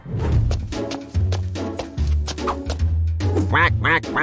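Cartoon duck quacking in repeated loud, nasal bursts, close and bright, with a soft musical bed underneath.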